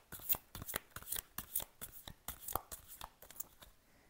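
Playing cards being drawn and shuffled, a rapid run of crisp papery riffles and snaps in quick bursts, close by and fairly quiet, with no talking.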